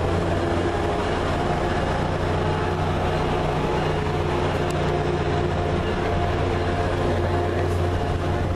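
A short three-car commuter train powered by two locomotives rumbles steadily with a constant low engine drone and rolling rail noise, close and continuous, with no pauses.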